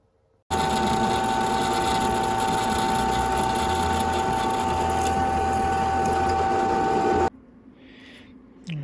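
A power tool runs continuously for several seconds while drilling and tapping bolt holes for the radiator mount on a 1986 Suzuki GSX-R 750 restoration, a loud steady whirring drone that cuts off abruptly near the end.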